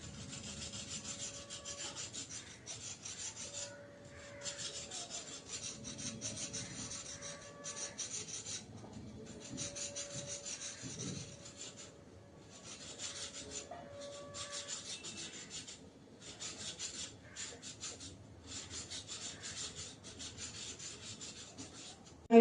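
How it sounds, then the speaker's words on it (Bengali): A knife scrapes the skin of pointed gourds in steady, repeated rasping strokes, close and fairly quiet, broken by short pauses between bursts. "আমি প্রথমে পটলগুলোকে একটু ছুরি দিয়ে এরকম ঘষে নেবো।"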